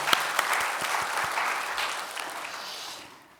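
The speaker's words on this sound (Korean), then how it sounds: "우리 부모님께 감사의 박수를 올렸으면 좋겠습니다" Congregation in a Korean church Sunday service applauding to thank their parents, a dense wash of clapping from many hands that holds steady, then thins and fades out near the end.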